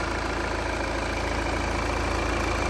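Volvo V60 D4 diesel estate engine idling indoors in a showroom, a steady, fairly loud mechanical hum with a fine even clatter and a slight echo, constant throughout with no talk.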